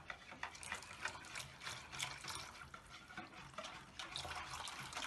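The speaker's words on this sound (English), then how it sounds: "Then we are going to be adding our water." Water poured into a bowl of melted butter and other wet ingredients for Nigerian buns, a steady trickling and splashing stream lasting several seconds, close and fairly quiet with no talk.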